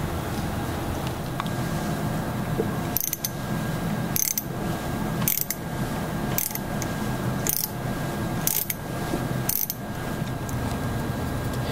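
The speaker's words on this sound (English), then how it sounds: "it's time to grab our socket set and remove the 1/4 inch socket bolts that go all the way through the motor down into the lower housing." A socket ratchet clicks steadily as it loosens the quarter-inch through bolts holding the motor of a Whip Mix vacuum power mixer, a close, even run of rapid pawl clicks with short pauses between strokes.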